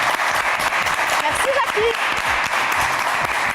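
A studio audience claps loudly for a contestant on a French television talent show, a thick, continuous burst of applause with a voice speaking briefly over it.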